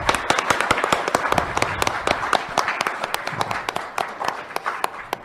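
A lecture audience applauding together, dense sharp claps blending into a sustained burst of clapping that continues throughout.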